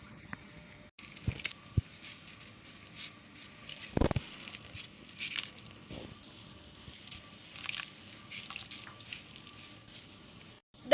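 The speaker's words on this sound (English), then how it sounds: "going to squeeze out the water or the juice of the potato, whatever you like to call it" Grated potato is squeezed by hand to press out its water, giving wet squishes, drips and soft crackling pats in irregular bursts, close and fairly quiet.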